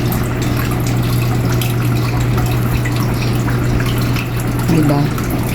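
Water pouring steadily into the plastic tank of a budget air cooler, a continuous close splashing rush with a low steady hum underneath, brief gurgle near the end.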